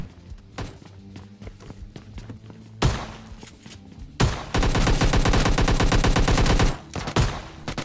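Gunfire from a shotgun and other weapons in the battle royale game PUBG Lite, with scattered thuds and shots early on, then a single loud blast and a long, dense, rapid burst of automatic-sounding fire that cuts off near the end.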